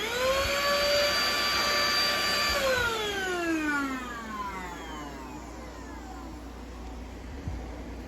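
A siumxr handheld vacuum cleaner whines loudly up close at a steady high pitch, then winds down as it switches off, its tone falling away over several seconds into quiet.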